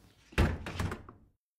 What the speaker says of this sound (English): They walk inside and shut the door.